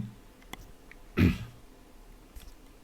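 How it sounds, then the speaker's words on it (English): A single short cough bursts out at close range in a quiet room, one brief loud burst standing alone with faint background noise around it. "Sorry guys, I had to just cough there."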